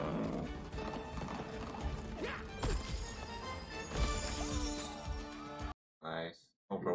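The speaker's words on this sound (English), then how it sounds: "Y'all gonna get trampled by the horses." Horses gallop and neigh in an animated film scene, a loud busy rush of hooves with crashing noise, briefly cut off near the end.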